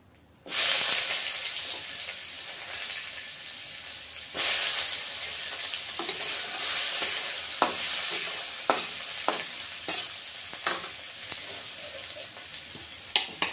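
Chopped tomatoes go into a Bengali rui fish curry with vegetables over low heat, setting off a loud steady sizzle that swells as they land, followed by scattered stirring clinks and scrapes; no talking.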